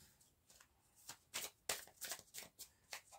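A Belline tarot deck is handled as cards are drawn, making a run of quick, close papery swipes and riffles that swell and fade over a few seconds, faint and with no talking.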